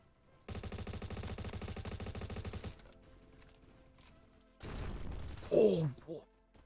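A Honey Badger gun fires in the Bad Business video game: a sustained rapid-fire burst of about two seconds, a quieter pause, then a second shorter burst with a voice briefly speaking over it.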